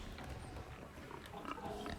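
Pigs grunt in the video game Reanimal, a few low snorts and oinks rising over a murky, busy ambient backdrop, faint and somewhat distant.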